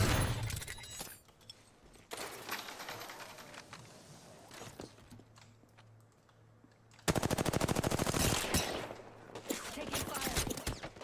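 Gunfire in the battle royale video game Apex Legends comes as rapid automatic bursts, one burst early and a long loud sustained stream in the second half, mixed with game effects and some faint voice.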